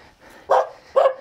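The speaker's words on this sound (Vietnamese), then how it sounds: "nhiều chó thế." Dogs barking in an isolated Dao ethnic village, two loud, close bursts of barks with a third starting at the end, separated by quiet gaps.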